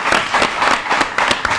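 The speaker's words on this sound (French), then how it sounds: "Je vous demande d'applaudir cette équipe" Audience applauding a team at a school quiz competition between two Haitian schools, a dense burst of many hands clapping, loud and close, with no talk over it.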